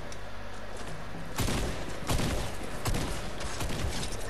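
Gunfire in Fortnite, a burst of loud, sharp shots beginning partway through and repeating in rapid clusters over a steady game background.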